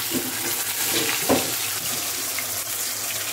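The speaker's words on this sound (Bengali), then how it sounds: "মাছটা ভেজে নিচ্ছি।" Fish fries in a pan with a steady hiss and sizzle, moderately loud and close, a few soft clinks and stirring noises breaking through, with no talking.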